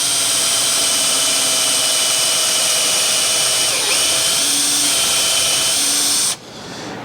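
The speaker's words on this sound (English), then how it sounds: "and we're going to pre-drill it." A loud, continuous high-pitched drill whine pre-drilling a screw hole in a porch swing runs for several seconds with slight pitch wavering, then cuts off abruptly near the end.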